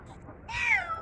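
A single clear cat meow rises and falls, close and fairly loud, after a short quiet stretch with faint room noise and no talk.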